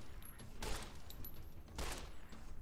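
Gunfire in the video game Fallout: New Vegas comes as two sharp, loud bursts of shots about a second apart, over a low, continuous background.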